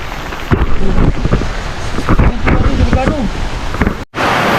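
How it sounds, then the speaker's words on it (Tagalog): Heavy rain pours down outdoors, a dense, loud roar with wind buffeting the microphone and scattered heavier thumps, while a voice speaks faintly underneath; the sound cuts out briefly near the end, then the downpour resumes. "Alakas ang ulan."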